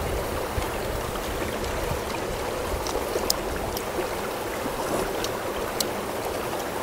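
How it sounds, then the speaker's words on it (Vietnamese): A babbling mountain stream near an isolated La Hu village runs steadily and fairly close, a continuous broadband rush of trickling water with small splashes and no voices. "mình được nghe tiếng suối róc rách cũng rất là sướng"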